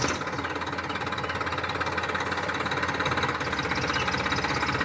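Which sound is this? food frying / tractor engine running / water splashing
tractor engine running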